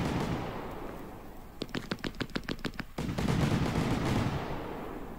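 Fireworks in the Fireworks Mania game go off as a rapid string of about a dozen sharp crackling bangs, like a quick fusillade, followed by a rumbling, crackling burst and fading hiss.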